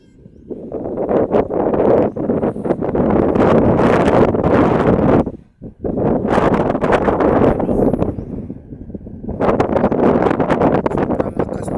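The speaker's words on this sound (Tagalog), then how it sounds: "Sobrang lakas ang hangin, ang ulan doon" Strong wind gusts roar across a sea shore during stormy weather, buffeting the microphone loudly and almost continuously, with one brief lull partway through.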